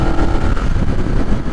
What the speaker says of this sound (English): I love that this thing doesn't throw you off the bike under engine braking.